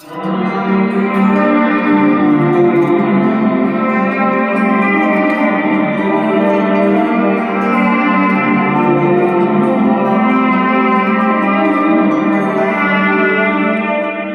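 An electric guitar riff through a Walrus Audio Slotva reverb pedal, washed in heavy reverb and echo, notes blurring into a dense, sustained wall of sound, loud and continuous throughout.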